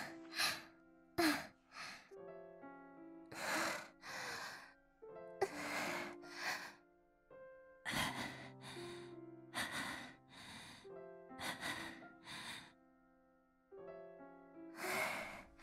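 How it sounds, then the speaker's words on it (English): Heavy panting and gasping breaths from characters in a dark room in the visual novel Chaos;Child come in repeated bursts over soft, sustained background music. "The only sound in the dark room was their panting."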